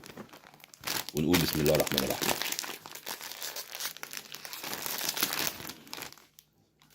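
A plastic snack bag of Lulu Puffs tomato-flavored snacks is torn open with loud, close crinkling and crumpling that runs through most of the stretch, while someone speaks over the rustling.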